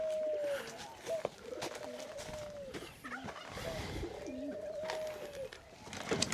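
Laughing doves coo on a farm in repeated soft, bubbling phrases that rise and fall, heard near and fairly loud against a light morning background.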